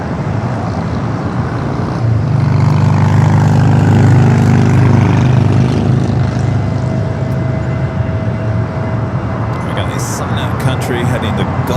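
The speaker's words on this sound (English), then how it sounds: "737-800 now rolling down to 25 left" Boeing 737-800 rolling down runway 25 left at Los Angeles airport for takeoff, a loud sustained jet engine roar swelling and holding steady, heard from a distance with faint chatter joining near the end.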